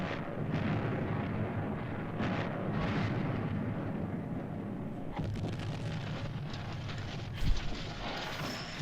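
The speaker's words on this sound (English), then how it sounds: "You've got to have explosions if you're doing like a fan-made Jerry Anderson film." Rumbling explosions from a fan-made Thunderbirds-style film roll on continuously, a dense boom and crackle with a sharper blast near the end, fairly distant and muffled.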